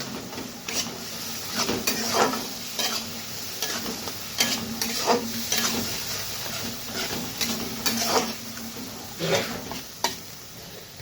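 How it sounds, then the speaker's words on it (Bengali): Potato and pointed gourd curry with cashews and raisins is stir-fried in a pan, giving a steady sizzle with repeated scraping strokes of a spatula at an irregular rhythm, close and moderately loud. "কয়েকটা কাজু কিশমিশ দিয়ে দিই ভালোভাবে কষে নেব"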